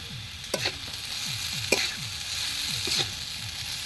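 Chicken chowmein sizzles loudly in a pan while it is stirred, with repeated scraping strokes in a steady rhythm over continuous frying hiss, close up and without talk.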